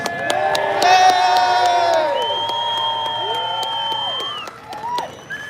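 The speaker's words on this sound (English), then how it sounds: "can we give her an applause?" A crowd at an outdoor freedom convoy rally cheers and whoops, with loud sustained shouts and yells over scattered clapping, rising early and then fading to a few voices.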